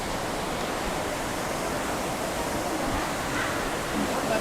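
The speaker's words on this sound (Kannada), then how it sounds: "ಇದು ವಾಟರ್ ಫ್ಲೋ ಆಗ್ತಿರೋದು" Clear river water flowing beside a temple, a steady broadband rush of running water heard close and continuous with no other sounds.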